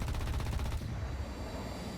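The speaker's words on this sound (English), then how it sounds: "fire our cannon off to slow us down a little." Aircraft cannon fire in the War Thunder combat flight game: a rapid, loud burst of shots lasting under a second, then a steady rumbling roar with no voices.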